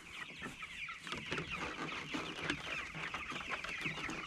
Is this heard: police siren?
no